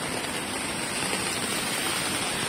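Rain pours down in Dubai during a storm that floods the streets, giving a dense, steady hiss of falling water that fills the whole short stretch without any voices.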